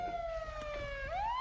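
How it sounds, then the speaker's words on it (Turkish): Police car siren in a roleplay video game, a single wailing tone sliding slowly down then sweeping back up, steady and fairly close, with faint background noise and no talk. "bu sireni kapat"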